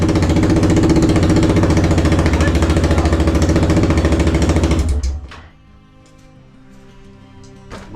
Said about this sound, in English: Without the exhaust, it's way too loud.